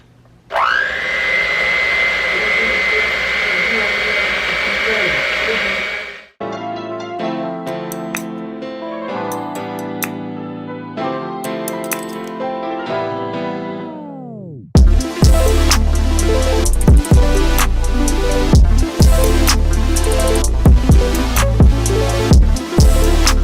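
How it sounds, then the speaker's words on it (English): A hand mixer beats milk and pudding mixture for banana pudding, starting with a loud whine that cuts off, then intermittent tones, then a louder, rougher whirring with rhythmic clunks as the beaters run, with no talk. "take my hand mixer and I'm gonna mix this up"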